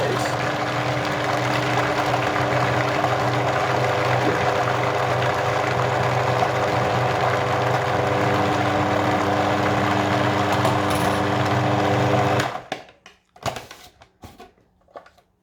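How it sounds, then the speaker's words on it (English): A loud, steady motor whir of a food processor running for several seconds, then it stops abruptly, followed by a few clattering knocks. "I'm just going to pop this onto my food processor."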